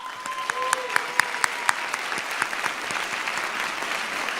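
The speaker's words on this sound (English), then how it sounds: "Please join me as we offer them a round of applause." Audience applause at a school graduation ceremony, dense clapping from a crowd with a few sharp individual claps standing out, loud at first and gradually thinning.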